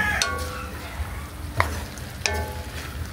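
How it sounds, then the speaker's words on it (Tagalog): Onions sizzle in a pan for pancit canton as a utensil stirs them, a steady close frying crackle broken by three sharp metallic scrapes and clinks against the pan. "Haluin na po natin."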